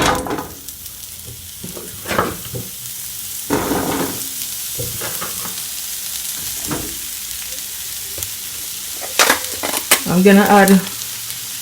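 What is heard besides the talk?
zucchini and onion sautéing in olive oil in a pot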